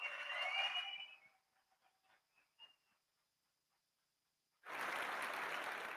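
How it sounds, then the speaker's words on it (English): A crowd at an Alberta independence rally in Calgary claps loudly for volunteers. The applause fades into a near-silent gap with faint scattered sounds, then a fresh burst of loud, dense clapping returns and keeps going. "I would also like to say a huge round of applause for our volunteers"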